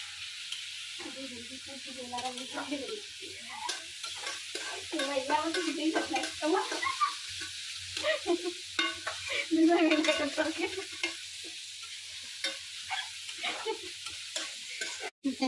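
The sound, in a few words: frying potatoes and onions in a pan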